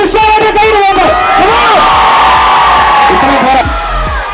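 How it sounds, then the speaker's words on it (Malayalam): A crowd at a jewellery store's grand inauguration cheers, whoops and yells loudly and close by, with many voices layered together in a continuous, excited roar. "റിയാദിക്കായും നിഹാസിക്കായും ഒരു നിറഞ്ഞ കൈയടി"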